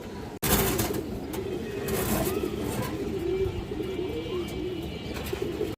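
Pigeons in a crowded loft of breeder birds coo repeatedly, layered rolling calls overlapping near and far, with brief chirps and a faint background hum.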